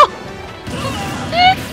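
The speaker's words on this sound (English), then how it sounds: "Smashed into the screen." A character gets smashed into the screen in Super Smash Bros for Wii U, a short swoosh and impact followed by a bright ringing hit near the end, loud and close amid game sounds.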